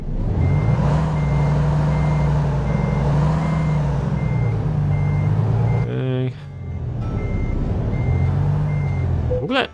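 An in-game truck in American Truck Simulator backs up on a Kansas road near a huge combine harvester, a steady loud engine drone under evenly spaced reversing beeps, with a brief clunk and a pause midway.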